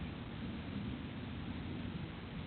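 Steady low rumble with rain noise through a thunderstorm, thunder rolling continuously at a distance, no voices.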